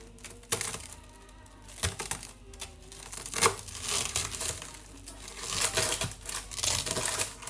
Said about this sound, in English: So I'll cut it this way